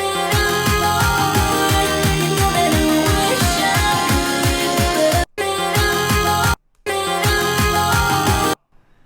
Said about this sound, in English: this riser, this sort of shrieky, screechy riser coming in right about here